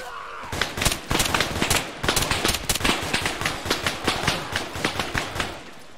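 Sustained automatic gunfire in the video game Arma 3, rapid dense bursts of shots firing continuously and loudly after a brief quiet start.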